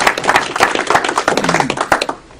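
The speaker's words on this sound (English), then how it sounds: "Let's give him an applause." A small audience claps briefly, a quick burst of loud, close hand claps over a couple of seconds that fades out at the end.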